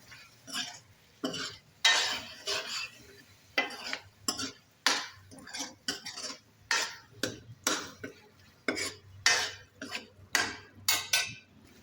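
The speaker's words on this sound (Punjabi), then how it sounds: "ਆਲੂਆਂ ਨੂੰ ਥੋੜੀ ਜਿਹੀ ਮਸਾਲੇ ਦੇ ਨਾਲ ਭੁੰਨ ਲੈਂਦੇ ਆ" Potatoes roasting with spices in a pan, stirred with a utensil in a steady rhythm of repeated scraping strokes and clinks over a faint sizzle.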